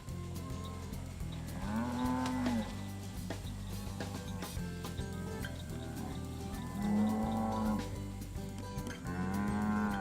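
Cattle on Bull Hammock Ranch low repeatedly, with three drawn-out moos rising over a steady, busy background of herd noise and movement, some fairly close and loud.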